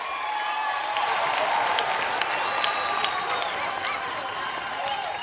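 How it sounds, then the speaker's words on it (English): Studio audience at a Nigeria's Got Talent taping applauding steadily, a dense continuous wash of clapping with some cheering mixed in, loud and sustained throughout. "Ladies and gentlemen, one more round of applause for the Naturals."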